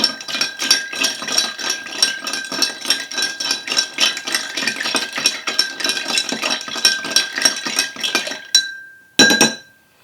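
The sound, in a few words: stirring a honey old fashioned cocktail with ice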